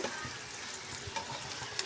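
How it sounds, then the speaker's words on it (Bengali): Egg and flour snack frying in a pan, a steady bright sizzle of hot oil with small pops, close and continuous, no talking. "তো বাকিগুলোকে আমি এভাবে করেই ভেজে নেব"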